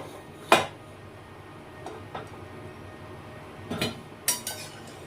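Boiled potatoes being lifted from a pot into a bowl, several sharp metallic clinks and clatters of utensil against cookware spaced irregularly over quiet kitchen background, fairly close and moderately loud.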